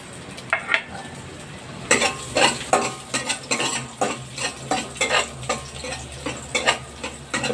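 Garlic sautés in hot oil for sinigang, giving a close sizzle broken by a quick, regular run of spatula scrapes and clinks against the pan.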